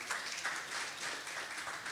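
Audience clapping at a poetry cafe event honoring a writing contest winner, a steady broadband patter of many hands that holds evenly for the whole stretch at moderate distance, with no speech over it.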